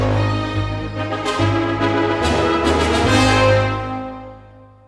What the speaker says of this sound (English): So I have trumpets and horns both playing this call and response figure after that note